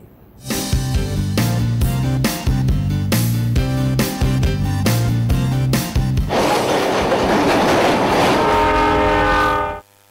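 Shuttle train on the Karachi–Hyderabad line sounding a loud, rhythmic series of horn blasts for several seconds, then a sustained horn tone over rumbling wheels and clatter as it passes close by.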